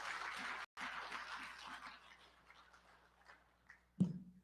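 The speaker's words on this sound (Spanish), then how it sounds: "Vamos a darle un fuerte aplauso." A small church congregation claps for a pastor, the applause fading quickly from a moderate start, followed by a single louder thump near the end.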